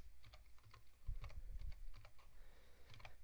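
Rapid typing on a computer keyboard while entering an email subject and message, a quiet, irregular patter of key clicks in quick bursts, close by and alone.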